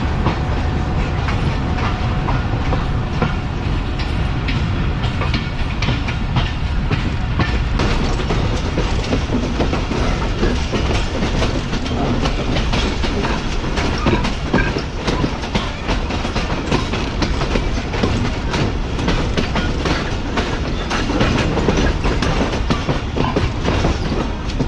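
Steady clickety-clack and rumbling wheel noise from inside the Pakistan Express passenger train running from Multan to Karachi, continuous and loud throughout with no talk.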